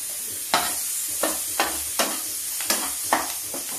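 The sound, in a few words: garlic and coriander tempering sizzling in pan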